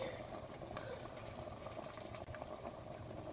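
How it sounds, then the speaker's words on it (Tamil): A pot of tomato gravy for chicken biryani simmering quietly, with soft continuous bubbling and a low steady hiss close by. "ஏன்னா இப்போ தக்காளிலையும் கொதிக்குது"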